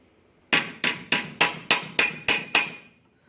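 Eight sharp, evenly spaced hammer blows strike metal being shaped into a rounded edge, each a loud ringing impact with a short decay, close and alone without talk.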